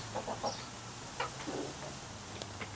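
Chickens cluck inside a chicken coop, giving several short, scattered calls over about three seconds above a steady low hum.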